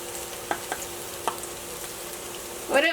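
Coriander powder roasting in a pan, a steady low sizzle broken by a few light stirring taps and a brief scrape near the end, no talking.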